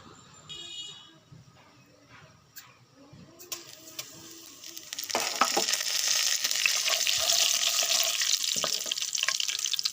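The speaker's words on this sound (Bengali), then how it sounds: "শুকনো মরিচ ভাজা হয়ে গেছে।" Dried red chillies fry in oil after quiet kitchen clatter, and a loud, continuous crackling sizzle swells partway through and then holds steady close by.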